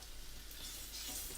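Sliced banana shallot sizzles steadily in a hot pan for a short moment, a soft, even frying hiss with no talk over it.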